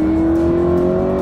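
A car accelerates on a race circuit during driving training, its engine giving a loud, close, steady droning tone that rises slightly over a brief moment.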